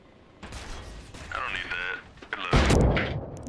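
Sniper gunfire in the video game Arma Reforger, fired from a cliff. A sharp, loud broadband burst of shots lands near the end, after a stretch of quieter game noise and faint voices.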